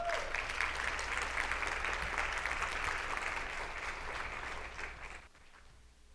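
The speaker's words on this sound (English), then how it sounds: "To tell us more about all of this, a round of applause" A conference audience at a FIFA Women's Football Symposium applauds speaker Moya Dodd with dense, steady clapping that thins and fades near the end.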